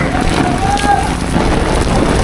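Strong wind and rain on the bank of the Yamuna at Vrindavan during a flood, with steady roaring wind buffeting the microphone and a dense wash of rain. Nearby voices are faintly mixed in.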